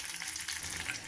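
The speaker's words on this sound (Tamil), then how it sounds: "கடலைப்பருப்பு, உளுந்தம்பருப்பு, கடுகு நல்லா பொரிஞ்சிருச்சு." Chana dal, urad dal and mustard seeds fry in hot oil while tempering for raw mango rice, giving a steady, close sizzle with fine crackling throughout and no talking.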